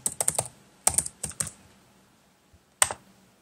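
A password typed on a computer keyboard while setting up a Slack account: a quick run of close, crisp key clicks, a short pause, another burst, then one final isolated keystroke.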